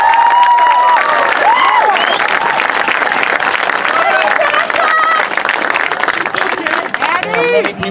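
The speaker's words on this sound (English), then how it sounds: "So give the Guard a round of applause." A large crowd at a marching band show applauds the color guard with dense, sustained clapping, cheers and scattered whistles, loud and close throughout, with a murmur of voices in the mix.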